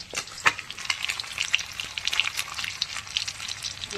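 Fish frying in hot oil in a home kitchen, a steady crackling sizzle with scattered sharp pops, close and continuous.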